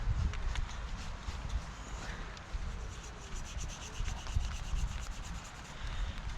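Steady hand rubbing over an object outdoors, a continuous soft scuffing texture with a broad low rumble underneath, moderately close, with no voices.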